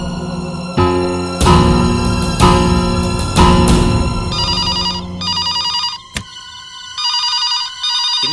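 A telephone bell rings in repeated loud bursts, close by, with no one talking.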